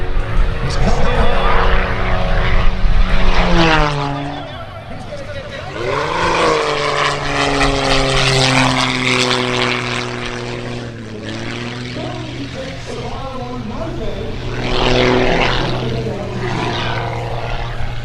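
Propeller aerobatic airplane flying past, a loud droning engine whose pitch slides and bends repeatedly as it climbs and swoops, swelling and fading over the whole stretch, with a voice talking over it.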